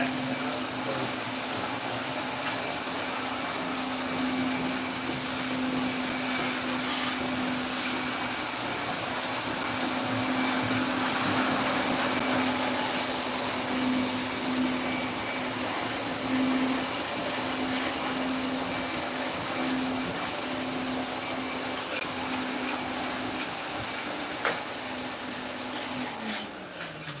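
A wet vacuum cleaner sucks scrub water off a floor spot, giving a loud, continuous whining drone with a steady tone that runs unbroken and alone throughout, shifting slightly near the end.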